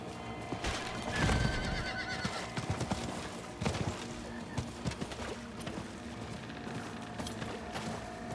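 In the video game Diablo IV, a horse whinnies loudly near the start, followed by uneven clopping hooves and scattered clattering noises, with no one speaking.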